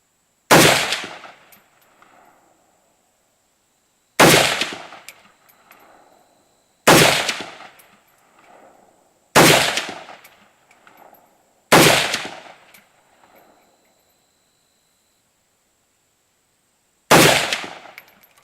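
Six loud, separate rifle gunshots ring out outdoors at irregular intervals of about two to three seconds. Each crack has a sharp attack and a decaying echo, with silence in between.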